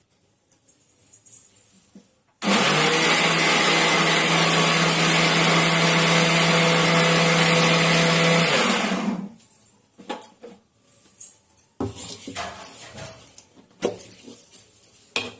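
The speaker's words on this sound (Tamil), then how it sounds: "இதை போய் அம்மா ஒரு பேஸ்ட் போல அரைச்சின்னு வந்துடலாம்." A mixer grinder whirs loudly and steadily for about six seconds as fish curry masala is ground into a paste, then winds down, followed by quieter handling clatter.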